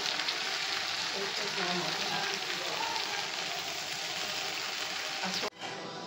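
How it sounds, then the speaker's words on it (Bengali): Coconut frying in a kadai during a Bengali Ranna Puja cooking day gives a steady, dense crackling sizzle that runs unbroken, then drops briefly near the end before resuming. "এখানে নারকেল ভাজা হচ্ছে"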